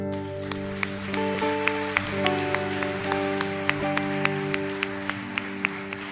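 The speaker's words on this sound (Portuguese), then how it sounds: "Dê um aplauso ao Senhor." A church congregation claps along, with sharp, regular claps standing out over sustained organ or keyboard chords and a broad wash of sound, steady and fairly loud throughout.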